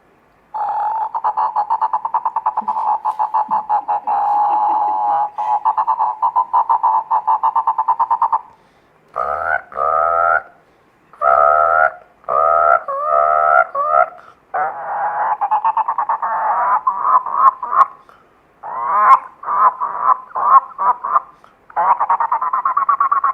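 A mimic imitates frogs croaking on a lake bank in the rain, producing a long, rapid, rattling stream of throaty croaks, loud and close, broken into choppy bursts and brief pauses partway through.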